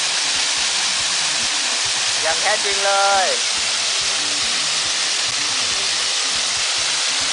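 Tat Bong waterfall roaring as a loud, steady wash of falling water beneath a rock overhang, with someone briefly speaking over the rush.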